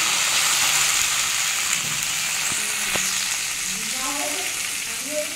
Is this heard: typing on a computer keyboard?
no